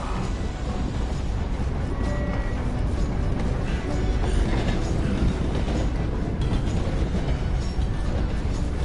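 A train rolls past in the video game Red Dead Redemption 2, a loud, steady rumble with rattling carriages and clattering wheels that fills the whole stretch, with no voices over it.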